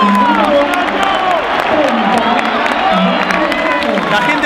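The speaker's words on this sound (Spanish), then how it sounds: "La gente aplaude poco" Stadium crowd at a River Plate vs Boca Juniors Copa Libertadores semifinal, a dense, steady roar of cheering and scattered applause with whoops, with commentators talking over it throughout.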